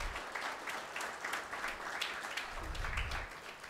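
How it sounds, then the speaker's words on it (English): Audience applause at a PG diploma convocation ceremony, a steady dense wash of many hands clapping that holds for several seconds and tapers slightly at the end. "So claps for them, Naman and Achira."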